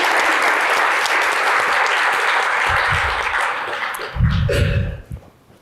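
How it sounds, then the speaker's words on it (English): Conference audience applauding speaker Tom Baigrie at a protection industry debate, a steady broad patter of clapping for about four seconds, then a few thumps and movement near the microphone as it fades out. "Mr. Tom Baigrie, a big round of applause, please, everybody."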